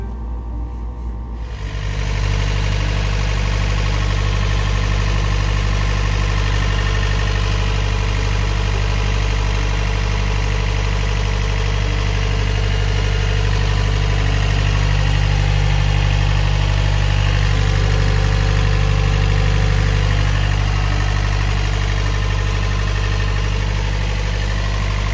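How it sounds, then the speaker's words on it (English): A Yanmar 4JH5E marine diesel idles steadily after heat exchanger and impeller maintenance. It starts up after a brief quiet moment, then settles into a constant, close, low rumbling hum with no talking. "Nothing sounds better than the purr of an engine when you've completed a job that you've done yourself."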